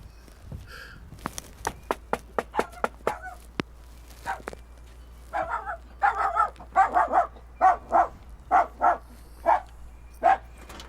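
A dog in a video game barks repeatedly, first in sharp scattered yelps, then in a steady run of loud, evenly spaced barks.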